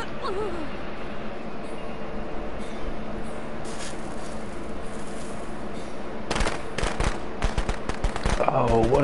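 Rapid bursts of sharp crackling firecracker pops in a video game, in a dense cluster over steady background noise, growing louder and more frequent toward the end.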